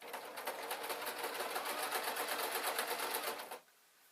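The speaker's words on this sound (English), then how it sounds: "I'm going to sew the curb" A sewing machine stitches a curved seam on a Downton Abbey-style dress in one steady, rapid run of about three and a half seconds, close and clear, then stops.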